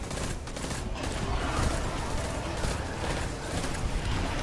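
Rapid bursts of gunfire crackle continuously, loud and dense, in a firefight in the video game Destiny 2, with no talking.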